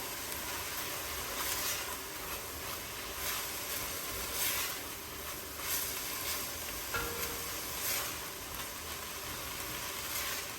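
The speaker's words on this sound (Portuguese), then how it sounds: "Aqui a carne já refogadinha, a gente vai acrescentar a cebola." Chopped medium onion sizzling with already-browned ground meat in a pan for Mexican chili, a steady dense frying hiss with occasional stirring scrapes, close and continuous.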